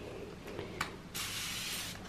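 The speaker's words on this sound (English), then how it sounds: "So my handy dandy little spray bottle thing." A small spray bottle misting water onto a dry gouache paint palette, a steady close hiss lasting about a second after a few faint handling taps.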